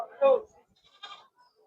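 A short goat bleat sounds close by at a goat market in Karad, followed by a second fainter bleat a moment later.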